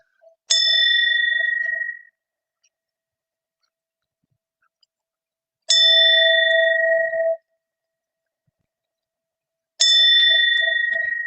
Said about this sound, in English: The way we roll down the bell, it's like a ping pong ball bouncing on the floor.